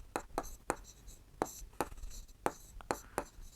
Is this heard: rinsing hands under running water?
no